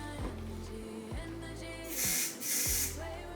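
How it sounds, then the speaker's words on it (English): Got To Be Flex Insta Hold hair spray sprayed onto a wig: two short aerosol hisses in a row, near and moderately loud, over a low steady background hum. "I'm gonna spray some."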